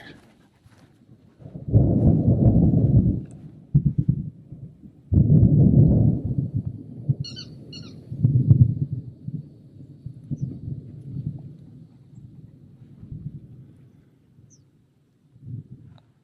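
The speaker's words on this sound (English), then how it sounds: "So a lot of thunder, a lot of lightning." Low rumbling thunder rolls through a storm in the southern US, several long deep bursts swelling and fading over the stretch, fairly loud and close, with brief quiet gaps between rumbles and a few faint bird chirps.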